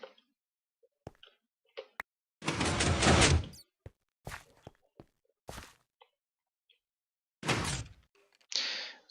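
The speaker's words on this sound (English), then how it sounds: "You have yourself a secret timed double door." A secret timed double door in Minecraft opens and closes, giving a long sliding mechanical rush followed by scattered thunks and clicks, then a second sliding burst and a short final clunk near the end.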